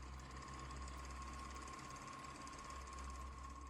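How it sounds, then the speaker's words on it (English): A film projector whirs steadily, a constant mechanical hum with a faint rhythmic flutter and a thin whine, heard alone at low level throughout. "Listeners are subject only to the whirring noises of a projector."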